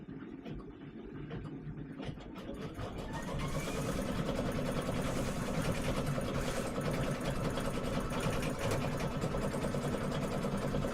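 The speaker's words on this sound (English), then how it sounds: "put my foot down, I get the green light, everything's checking out, perfect, and we'll start stitching." An embroidery machine stitching a tea towel starts up after a quiet moment, then settles into a steady, fast, close mechanical chatter that runs without a break to the end.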